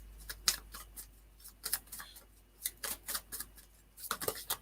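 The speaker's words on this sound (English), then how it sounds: "if I keep shuffling and see what else comes out" A deck of tarot or oracle cards is shuffled by hand during a reading, giving a series of soft, close papery snaps and flicks in irregular bursts that grow busier near the end.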